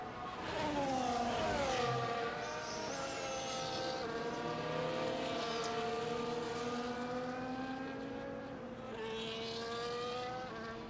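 Several F1 race cars idle and rev on a San Marino Grand Prix grid in a racing game, their engine whine holding steady with slow pitch sweeps, moderately loud and with no voices over it.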